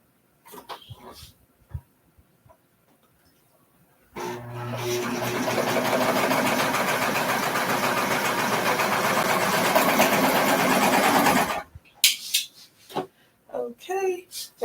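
A sewing machine stay stitching a garment seam at the back of the neck, running steadily for about seven seconds, loud and close, with scattered handling knocks and brief talk before and after.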